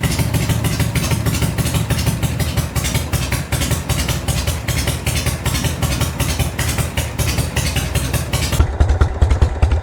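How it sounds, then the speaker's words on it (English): A Harley-Davidson Shovelhead motorcycle engine idles up close after carburetor adjustment, a loud steady lumpy thumping that runs throughout, with a brief sharper clatter near the end. "You can hear that the engine's idled up, so we're just going to back that off a hair to bring it back down to a good low idle."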